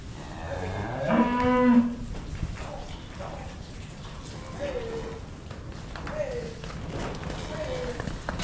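Heifers moo inside a barn: one loud, drawn-out low call up close, then several shorter, fainter moos at intervals, with shuffling and barn noise throughout.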